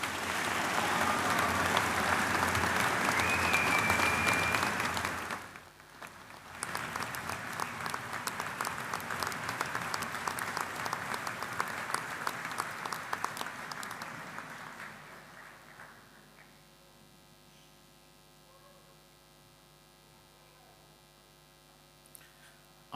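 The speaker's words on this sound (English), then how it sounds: "Please clap your hands and stomp your feet as loudly as you can to make the room come alive" Graduation ceremony audience clapping and stomping feet in a large hall, a loud, dense burst for about five seconds, a brief lull, then sustained applause that fades out, leaving a quiet hum.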